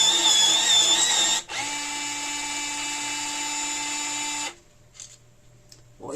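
An electric pencil sharpener with a helical blade grinds a pencil, a loud steady high-pitched whine that runs for several seconds, briefly dips, resumes, then cuts off into near quiet.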